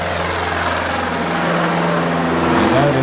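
A 1951 Piper Super Cub's propeller engine drones loudly and steadily as the small plane takes off in Alaska, with the pitch climbing slightly near the end, and no voices over it.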